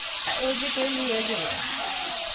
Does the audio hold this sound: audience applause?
no